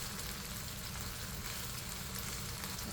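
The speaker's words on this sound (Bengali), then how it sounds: "ওই পিঠটাও ভেজে নিব" Small local fish fry in oil in a pan, making a steady, dense sizzle and crackle that holds at an even level throughout, close by with no voices.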